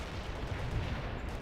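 Heavy artillery barrage in the video game World in Conflict, a dense, continuous rumble of distant blasts blending into one low roar.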